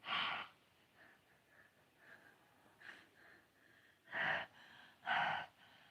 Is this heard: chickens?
no